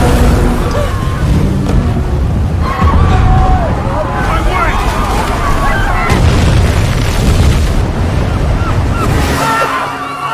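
Loud, continuous roaring rumble like a sustained explosion or blast, dense and chaotic with crackling debris, lasting throughout before easing slightly at the end.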